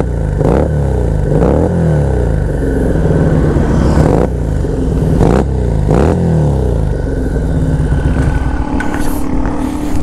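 A FEKON 3GP scrambler-style motorcycle engine revving steadily and loudly nearby, with repeated throttle blips and a constant rumbling idle throughout.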